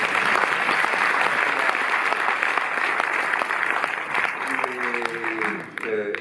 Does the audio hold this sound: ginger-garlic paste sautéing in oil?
no